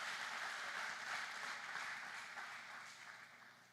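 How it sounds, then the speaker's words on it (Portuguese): Church congregation applauding the Lord during a Portuguese-language healing sermon: a dense wash of many hands clapping at once, moderately distant and fairly soft, steady at first and then gradually fading toward the end. "Dê uma salva de palmas ao Senhor"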